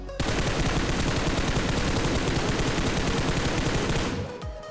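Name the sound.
gunfire in PUBG Mobile video game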